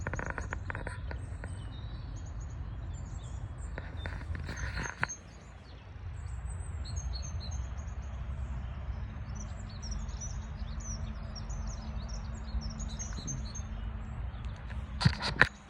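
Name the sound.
birds singing in a forest in Germany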